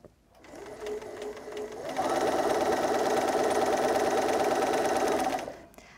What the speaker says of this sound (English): I'm going to use a 1/4 inch seam and just stitch straight from the small fabric onto the square.